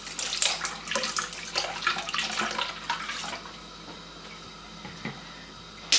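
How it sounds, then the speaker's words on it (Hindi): Cold water poured from a cup into a bowl of ice while making spicy chicken broast, a steady close splashing pour for a few seconds that stops, leaving a quiet room with a faint clink afterward. "पानी डाल लें।"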